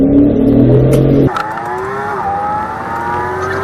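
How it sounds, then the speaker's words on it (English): A black BMW accelerates hard away during a police chase, its engine note climbing in rising harmonic sweeps after a loud rumbling start, near and steady with no talk. "So she just took off. Black BMW."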